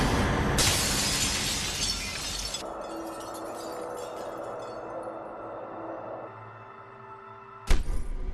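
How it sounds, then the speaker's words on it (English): Glass shattering in a horror movie scene: a loud, bright crash of breaking glass that spreads into a dense burst of shards, then settles into a low sustained rumble, with a sharp second crack near the end. "that CGI glass breaking was straight out of the 1999 Batman movie"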